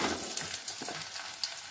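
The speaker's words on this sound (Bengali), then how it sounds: "এবার আমি আলুগুলো ভেজে নেব।" Potatoes fry in hot oil in a wok over a lowered gas flame, giving a steady, fairly quiet crackling sizzle with a few small pops and no talking.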